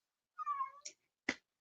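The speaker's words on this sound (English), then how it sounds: "meowing. I don't know what he wants." A cat meows twice indoors, first a drawn-out close call, then a short sharp second cry after a brief pause, with no other sound around it.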